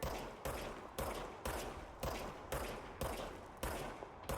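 Gunfire in the video game Control, a steady run of about nine loud single shots spaced roughly half a second apart, each with a short decaying tail, no voices.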